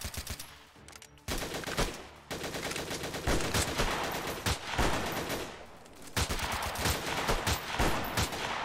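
Video game gunfire in Freeman Guerrilla Warfare: dense, rapid bursts of shots and volleys crackle almost continuously, with brief pauses between strings of fire.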